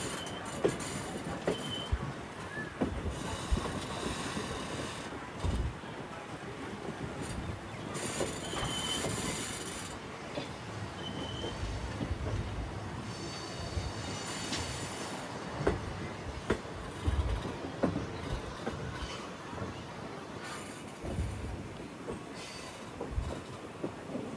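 A passenger train rolls into Nagercoil Junction in Tamil Nadu, its wagons rumbling and clattering over the rails close by, with wheels squealing at intervals as it slows on the approach.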